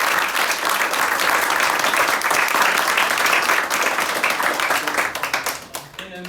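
A live-show audience claps loudly and continuously for the band, a thick wash of hands that thins into scattered claps near the end.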